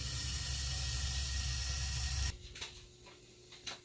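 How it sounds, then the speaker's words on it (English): Loud, steady hiss of boiling water for a couple of seconds, then it cuts off, leaving a quieter background with a few faint clicks. "the water's back there boiling behind me"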